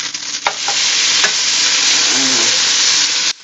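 Burger patties sizzle loudly in a frying pan as they are flipped, with a few scraping clicks from the turner at the start, then a dense, continuous sizzle that cuts off abruptly at the end.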